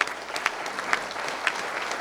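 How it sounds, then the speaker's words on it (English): An audience at a university celebration applauds steadily, a dense wash of clapping with a few sharper individual claps standing out, no speech over it. "Let's give him a round of applause."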